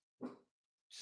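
A dog lets out one short, fairly quiet vocal burst, like a brief bark or grumble, followed by a moment of silence and then a soft breathy hiss.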